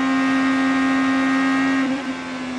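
Onboard an IndyCar race car at the Indianapolis 500 around a crash, a loud steady high-pitched engine whine holds a constant tone, then wavers briefly and eases slightly.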